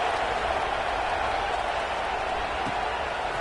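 Stadium crowd noise from a college football video game, a steady, moderately distant wash of cheering and murmur around kickoff, continuous and even throughout.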